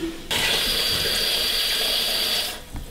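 Water pours steadily into a container while making rhubarb wine, a loud continuous splashing stream that starts abruptly and stops near the end.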